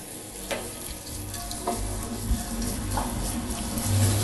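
Peeled shrimp sizzle and fry in a hot pan, a steady crackle with occasional stirring scrapes close by.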